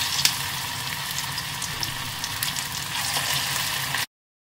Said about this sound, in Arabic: احطها بالزيت هو ساخن وابدي اقليها